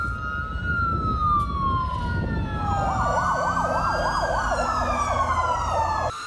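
A noon siren wails continuously for several seconds, sweeping slowly and then switching to a faster rising-and-falling warble, loud and steady, with traffic-like rumble beneath and no talk.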